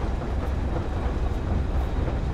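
A very long train rolling along rails in the survival game Rust, heard as a steady, dense rumbling roar with no clear clacks, constant and close with no talk over it.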